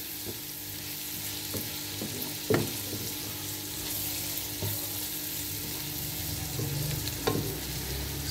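Chicken pieces with carrot, cabbage and a Knorr chicken stock cube fry for a white pasta, a steady close sizzle broken by a few sharp stirring knocks and clinks of a utensil against the pan.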